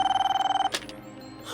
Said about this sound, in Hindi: ये राजू फोन क्यों नहीं उठा रहा है?